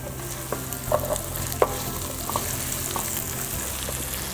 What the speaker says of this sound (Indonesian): kemudian masukkan jahenya, dan bawang bombay